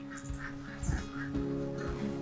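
Laying ducks in a pen at a duck farm, several quacks and honks in quick succession at close range over a low background hum.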